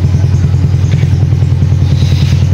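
A Smash 2022 model motorcycle idles close by, its low engine rumble steady and loud throughout with faint clattering on top.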